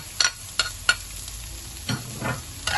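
Onion and chili frying in olive oil, a steady sizzle broken by several sharp scraping and clacking strokes of a utensil against the pan, close by and with no talking.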